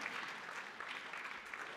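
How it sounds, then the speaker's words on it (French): An indoor audience at a round-table press event claps steadily, a dense, even patter of many hands heard at a distance with no voices over it. "merci de l'applaudir"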